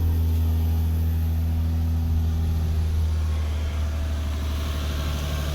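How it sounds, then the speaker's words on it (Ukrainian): The engine of a 2020 Nissan Murano SL AWD SUV idles steadily from a cold start at close range, a low even rumble with no revving, running alone without voices. "Зараз послухаємо роботу двигуна."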